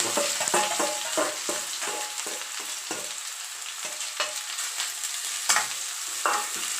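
Onions fry in a pan for curry with a busy sizzle, while a spoon stirs repeatedly in quick, close scraping strokes. Nobody speaks.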